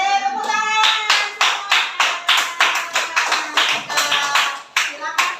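A group of students claps in unison during a classroom ice-breaking activity, producing loud, evenly spaced claps at roughly two per second, with a brief voice at the start.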